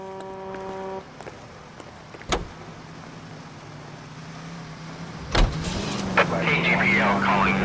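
A car in L.A. Noire starts up as a low engine idle hums steadily, punctuated by two sharp thuds like doors shutting, before the engine rises and revs as it pulls away.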